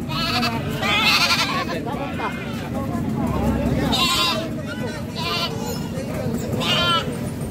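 Several goats bleat repeatedly, their wavering cries rising over a busy background of voices and outdoor noise.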